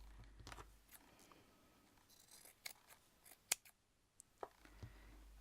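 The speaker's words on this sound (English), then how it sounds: "I'm going to cut my base down." Scissors snipping through fabric while trimming the base of a hand-stitched scrap flower, a string of sharp, close clicks scattered at irregular intervals against a quiet background.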